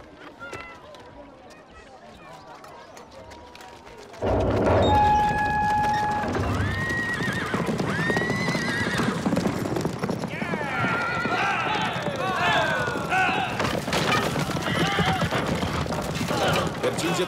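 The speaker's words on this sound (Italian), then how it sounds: "I Galli non mangiano i loro cavalli. Li fanno fuggire perché non possono nutrirli." In a film battle setting, Gaulish horses are driven off, galloping with clattering hooves and loud whinnies, beginning after a quiet opening and mixed with crowd noise and shouting voices.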